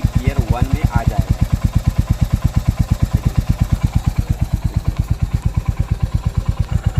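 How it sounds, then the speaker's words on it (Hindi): A Royal Enfield Hunter 350 motorcycle engine runs steadily in first gear, a close, loud, evenly pulsing single-cylinder thump throughout, with a brief burst of voices near the start. "अभी जो बाइक है गियर 1 में है और बाइक स्टार्ट हो चुका है।"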